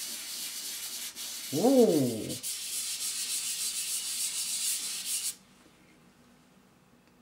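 Fingers rubbing steadily across a surface in a children's craft workshop, a continuous close-up scratchy hiss that stops abruptly, with a brief exclamation from a voice near the start.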